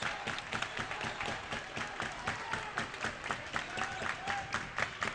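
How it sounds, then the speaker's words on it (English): Basketball fans at a high school game clap in rhythm from the stands, a steady run of sharp, fairly distant claps over the general crowd noise of the gym. "Maverick fans clapping on their feet."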